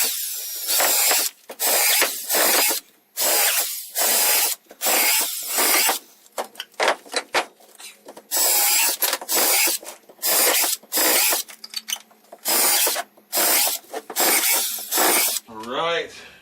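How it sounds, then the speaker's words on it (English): A power drill pre-drills holes in wood to keep the ends from splitting, running in repeated loud bursts of a second or so with short pauses between them, close up. "now we're just gonna pre-drill these where these are gonna go, just because I like pre-drilling stuff."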